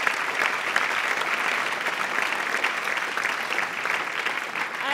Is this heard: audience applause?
yes